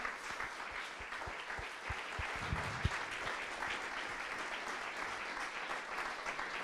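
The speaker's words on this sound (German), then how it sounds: "Nochmal großer Applaus bei Michael Schiele, Peter Vollmann, Robin Krause und Brian Henning." Applause from the audience at an Eintracht talk show event, fairly distant and steady clapping from a crowd with a few louder individual claps early on and no talk.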